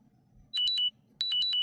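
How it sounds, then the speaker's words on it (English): A hypoglycemia reminder alarm beeps in two short bursts of rapid, high electronic tones, each burst made of three quick pips, clear and close against a quiet room. "I'm hypoglycemic and my alarm went off"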